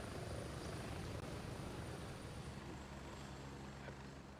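Helicopter in the military shooter game Gray Zone Warfare, a steady rotor thump and engine drone heard from inside the cabin, constant and fairly loud throughout with no talk over it.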